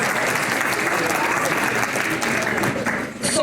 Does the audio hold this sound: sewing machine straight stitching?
no